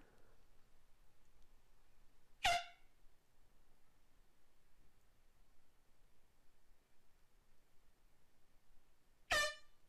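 Two short, sharp air horn blasts used as a sound effect on a Minecraft stream, spaced about seven seconds apart over a faint, quiet background.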